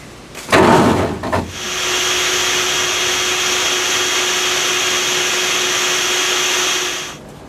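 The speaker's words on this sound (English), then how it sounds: "I'm going to have to vacuum some bees at this point" Vacuum sucking bees out of a house soffit during a bee removal, preceded by a couple of loud knocks, then a steady loud whooshing drone that runs for several seconds before winding down.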